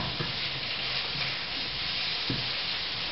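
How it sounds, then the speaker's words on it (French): Diced chorizo sizzles steadily in a pan while being stirred, giving a dense, constant frying hiss with a few faint scraping touches, up close and with no talking. "On remue le tout, voilà."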